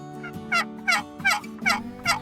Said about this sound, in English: I finally got my first gobble.